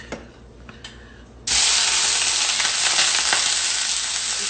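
Ground pork hits a hot pan of half canola, half olive oil: after a quiet moment a loud, steady, close sizzle bursts in and holds with crackling spatter.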